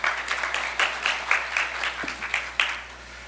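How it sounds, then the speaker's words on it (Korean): A seated conference audience gives sustained applause, a dense stream of clapping at moderate volume that rises and falls slightly and thins toward the end, with no talking over it. "큰 박수 부탁드립니다."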